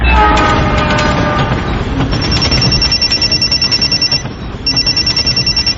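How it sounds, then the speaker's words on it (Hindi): A phone rings in a repeating electronic trill over the loud rumble and clatter of a moving train, the ringing pulsing in two bursts. "थोड़ी देर में मेरा फोन बजा।"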